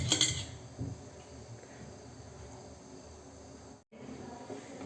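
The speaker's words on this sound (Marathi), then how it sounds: "याच्यानंतर पीठ सोडायचं आणि हलवायचं" A spoon stirs besan flour into boiling water in a pot while making pithla, giving soft scraping and faint utensil clinks at close range. It stays low and steady, with a brief dropout near the end and no talking.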